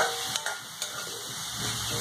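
Chopped tomato being stirred into frying onions in a pan, heard as a steady, close sizzle with a few light stirring taps over two seconds.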